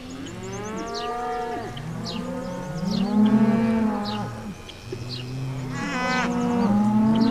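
Cows low repeatedly in a rural village herd, several overlapping long moos, some near and loud, others further off, with no talking.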